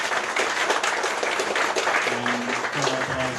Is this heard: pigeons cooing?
no